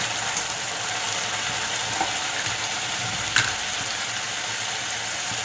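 Ginger-garlic paste frying in a generous amount of hot oil for tel koi: an even, close sizzle that runs throughout, with a few faint clicks of stirring and no talking.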